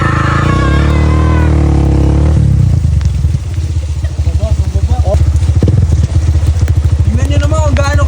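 A motorcycle climbs a very steep road in the provinces, its engine droning loud and close with rough revving and rattle, while people talk over it.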